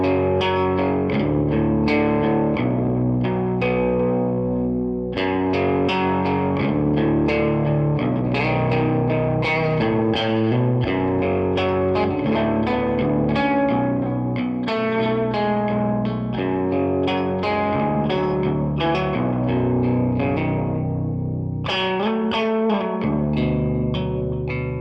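A rubber bridge guitar played through the lead gain channel of a Two-Rock amp gives distorted, lo-fi phrases with short muted plucked notes, strummed chords and brief pauses, loud and steady throughout.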